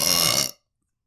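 A single loud, close burp lasts about half a second and cuts off abruptly into silence.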